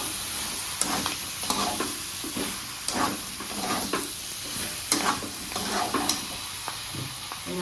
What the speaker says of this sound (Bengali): আবার ভালো করে নাড়াচাড়া দেবো কালারটা হয়ে গেলে হলো